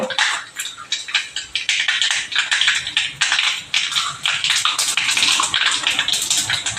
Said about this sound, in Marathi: आता आपण मोहरी घालूया व्यवस्थित तेल जरा जास्त लागतं या भाजीला